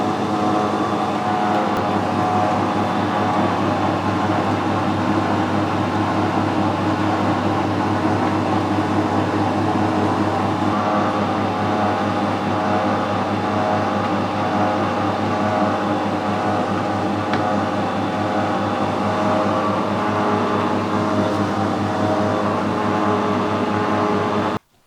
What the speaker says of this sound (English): See, it's cutting a nice coarse thread. And the steady rest is following it all the way down.